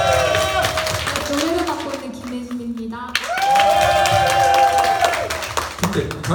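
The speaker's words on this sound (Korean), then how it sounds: "큰 박수 부탁드립니다" Audience applause at a church praise and mission concert, a loud sustained wash of clapping mixed with crowd noise and a sung or held tone running throughout.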